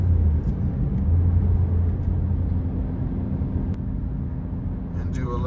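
A car engine pulls steadily in fourth gear from around 2800 RPM, a low continuous drone with road rumble close by, while someone talks over it.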